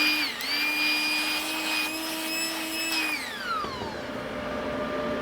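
Compressed air blows dust off a laser-cut wooden piece with a loud steady hiss and whine that sustains for about three seconds, then pitches down and fades as it winds off, close up.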